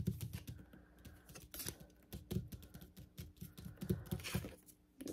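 Fingers type on a computer keyboard nearby, producing quick irregular bursts of key clicks with short pauses between runs.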